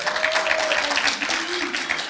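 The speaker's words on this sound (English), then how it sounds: "please give Jerry a welcome applause" A church congregation applauds to welcome the pastor, a dense, even wash of clapping through the whole moment. A sustained tone sits faintly underneath.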